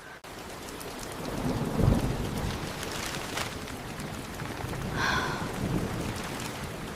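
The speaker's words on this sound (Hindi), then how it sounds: "ओह, फिर से बारिश शुरू हो गई।" Steady rain pours down throughout, with a deep rumble of thunder rolling in near the start and fainter rumbles later.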